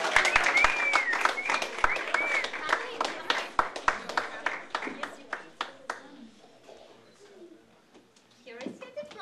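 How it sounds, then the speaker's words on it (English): Audience clapping for a finalist at an award presentation, with a dense burst of applause and sharp individual claps that thin out and fade over several seconds, accompanied by a brief whistle near the start. "Applause to Hillary"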